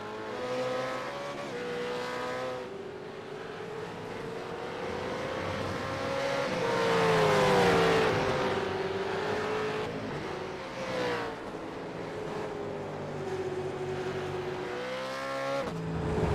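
Supercars race cars in the iRacing sim at Mid Ohio, engines droning and revving through the final corners, pitch climbing and dropping with gear changes as the cars pass near, loud and continuous with no voices.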